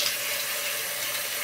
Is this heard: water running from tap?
yes